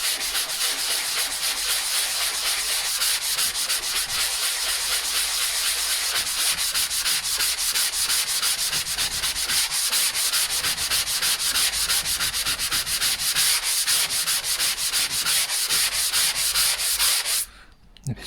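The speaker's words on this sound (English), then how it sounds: "But this filler sands off quite easily." Body filler on a hospital bed footboard is hand sanded in a steady run of rapid back-and-forth rasping strokes. The sound is loud and close and lasts about seventeen seconds before it stops abruptly, with no talk.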